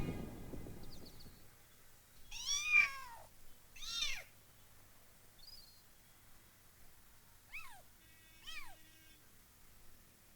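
Several separate kitten meows ring out across a quiet interior, each a rising-falling cry with short gaps between, fairly close and clear, with a faint low hum behind.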